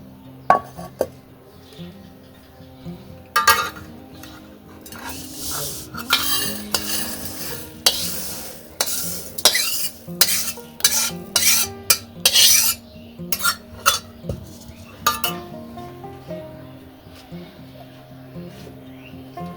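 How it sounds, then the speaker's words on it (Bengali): Chickpea lentils, mung, khesari and black gram dal with polao rice being roasted for halim in a pan, with repeated scraping and stirring strokes from a utensil, a faint sizzle and clinks, over a steady tonal background. "বুটের ডাল, মুগ ডাল, খেসারির ডাল, মাসকলাইয়ের ডাল এবং পোলাওয়ের চাল। এই সবগুলো উপকরণ ভালোভাবে ভেজে নেব।"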